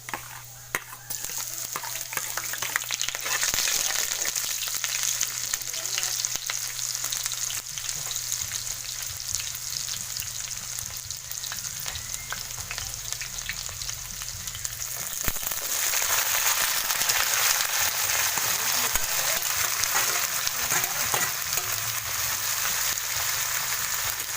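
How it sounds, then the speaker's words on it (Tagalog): Garlic frying in a pan over a wood fire, a steady loud sizzle running throughout with occasional stirring scrapes, growing more intense partway through. "Lagay na natin ang bawang."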